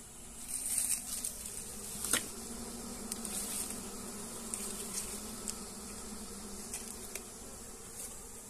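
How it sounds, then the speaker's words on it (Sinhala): Honey bee colony humming steadily in an agitated buzz after being smoked, a dense continuous drone with occasional close individual bees flitting past. "දැන් දුම් ටිකක් අපි දුන්නාම මී මැස්සෝ ටිකක් කලබල වෙලා තියෙන්නේ."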